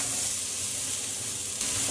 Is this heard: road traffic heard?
no